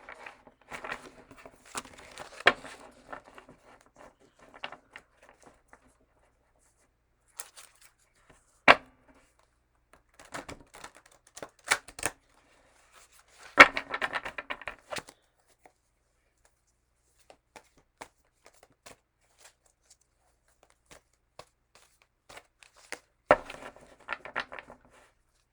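A hefty tarot deck made from two decks combined is shuffled in short, scattered bursts of soft card riffles and taps, with long quiet gaps between them.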